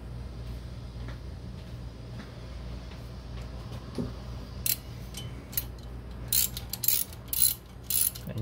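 A hand ratchet loosens bolts during a car radiator change, with quick clicking bursts near the end over a low engine-bay hum, close and fairly loud.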